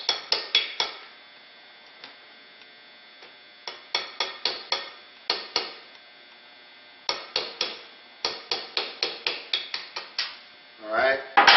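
Sharp metallic taps ring out in short bursts, from a hammer or punch driving a slave pin out during a Remington 700 trigger installation. The strikes are close and crisp, with brief pauses between the runs of blows.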